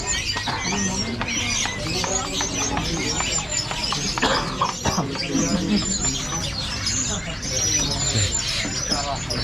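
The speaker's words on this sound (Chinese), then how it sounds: "这都是小鸟啊。" Many small birds chirp and tweet at an Indonesian bird market, a busy overlapping chorus of calls, close and loud, mixed with people talking and general crowd noise.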